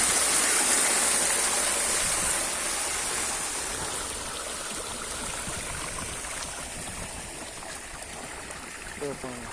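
A wide stretch of water, broad like the sea, flows with a steady, loud rushing hiss that eases slightly after the first few seconds and continues without a break.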